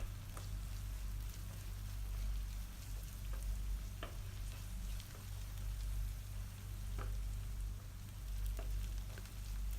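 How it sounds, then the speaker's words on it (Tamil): Green chilies with ginger-garlic paste sautéing in a pan for pepper chicken, a soft steady sizzle with faint scattered crackles and occasional stirring clicks over a low hum, no talking. "அது கூடவே இஞ்சி பூண்டு விழுது சேர்த்துக்கோங்க. சேர்த்துட்டு இஞ்சி பூண்டு வாசம் போகிற அளவுக்கு நல்லா வதக்கிக்கோங்க."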